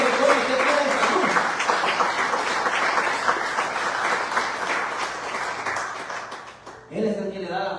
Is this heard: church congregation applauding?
yes